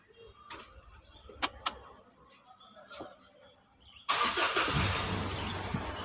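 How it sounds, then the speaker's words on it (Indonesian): An automatic car's engine cranks and catches, bursting into a loud, steady idle after a quiet stretch with faint bird chirps and clinks beforehand. "setelah dipasang kita coba hidupkan kembali mobilnya ya."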